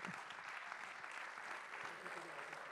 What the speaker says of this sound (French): monsieur le président directeur général, on vous applaudit.